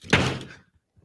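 A fist slams down on a desk once, a loud sharp thump with a short boomy decay and nothing else after it.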